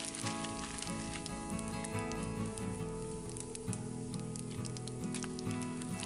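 Whole cumin and other whole spices sizzle in hot mustard oil in a kadai, giving a steady, close, dense crackle with light popping throughout and no voices.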